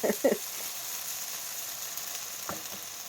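Chicken fried rice sizzles and fries steadily in a pan, with two brief scraping stirs at the start and another near the end over the constant hiss.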